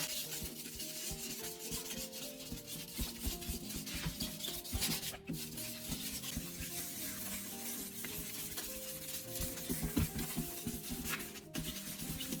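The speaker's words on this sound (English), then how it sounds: "I take a piece of 2000 grit sandpaper, wet it, and begin sanding in slow," 2000-grit sandpaper, kept wet, rubs across a foggy car headlight in slow controlled strokes, making a steady close-up scratchy swish that runs continuously with no talking.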